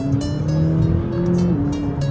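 A McLaren 570S engine runs loud and close, its tone rising and settling in a steady idle-to-rev drone with no voices.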